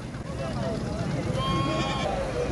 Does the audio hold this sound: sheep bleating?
yes